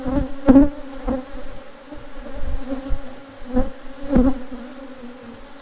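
Honeybees hum and buzz at an open hive during a brood-chamber inspection, a steady close drone with a few louder buzzing passes as individual bees fly near.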